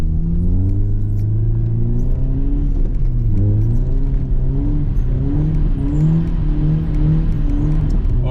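A car lapping a slippery drift track on newly fitted tyres, its engine droning steadily and loud throughout, with pitch rising and falling as the revs climb and drop, close and continuous with no talk.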